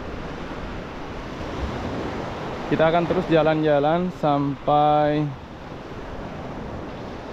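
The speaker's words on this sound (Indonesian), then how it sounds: "Suara ombaknya juga cukup kencang di areal ini." Steady surf rolls continuously on the beach at Gili Air, Lombok, with strong wind across the microphone and someone speaking over the wash of the waves.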